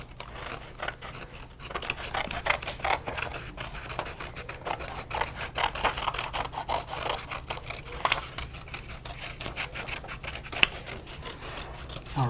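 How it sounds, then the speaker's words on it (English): Scissors cutting a shape out of a sheet of paper, with quick repeated snips and rustling scrapes in an uneven rhythm, close and fairly quiet. "Now we can take our scissors and we can go ahead and cut out our shape real quick."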